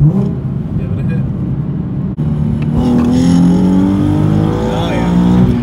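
A tuned Nissan 370Z Nismo in second gear is hit hard from about 40 mph. A steady loud engine drone gives way to a climbing, rising rev as it pulls, heard from inside the car.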